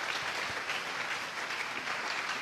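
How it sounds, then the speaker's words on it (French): A church congregation applauds loudly, with dense, sustained clapping that holds evenly for a few seconds with no voice over it. "Est-ce que nous pouvons acclamer très fort?"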